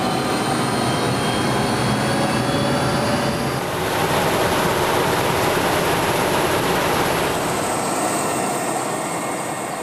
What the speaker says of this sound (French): L'hélicoptère vient d'atterrir près de Taloqan.